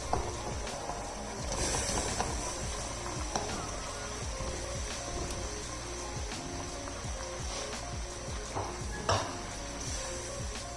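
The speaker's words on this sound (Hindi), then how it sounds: "जो मैंने कोफ्ते फ्राई करके रखे हुए थे ये इसमें चले जाएंगे" Fried chicken koftas stirred into curry gravy in a pan, giving a continuous sizzle with repeated scraping and clinking strokes of the spoon, close and fairly even, with no talking.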